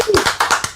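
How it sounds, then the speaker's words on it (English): A live audience applauds a contest winner at the close of a podcast episode, with several loud, evenly spaced bursts of clapping close by. "Give him one more round of applause"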